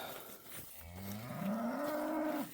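A heat-adapted bull on a regenerative ranch where Mashona cross calves are being fence-line weaned gives a single long, loud, close moo that rises and holds before cutting off.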